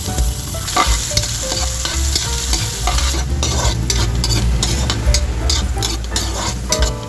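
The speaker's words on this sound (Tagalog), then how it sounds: "Maglalagay lang tayo ng mantika sa ating kawali. I-fry muna natin yung carrots." Carrots frying in oil in a pan while pork menudo is being prepared, a loud steady sizzle with stirring clatter throughout, no talking.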